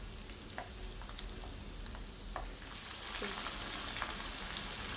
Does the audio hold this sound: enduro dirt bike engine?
no